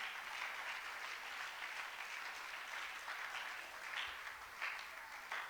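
A church congregation at a Sunday service gives sustained applause, with a steady wash of clapping from many hands in a large room at moderate distance.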